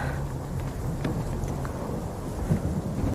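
A thunderstorm at night with heavy rain pouring steadily and a deep rumble of thunder rolling underneath, loud and continuous throughout.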